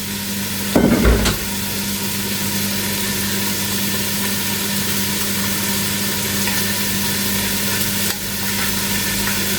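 Homemade nihari being stirred in a pot, a steady close sizzle with a brief louder scrape near the start and another light knock near the end, no talking.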